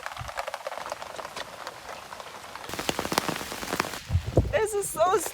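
Heavy rain pattering on a woodland cabin during a storm, dense irregular drops and drips close by, growing busier toward the end with a voice briefly heard over it.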